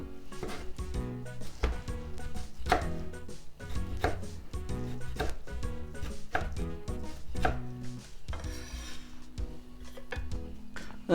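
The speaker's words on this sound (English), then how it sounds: "I'm just gonna cut this cutlet in bite-sized pieces" A knife chops a fried pork cutlet for katsudon into bite-sized pieces on a board, a steady run of close, crisp thuds and cuts repeating throughout.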